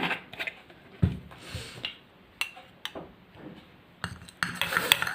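A spoon stirs turmeric into Ganga water in a small vessel, making scattered light clinks and scrapes against the metal in short bursts, close and fairly quiet, with no talk.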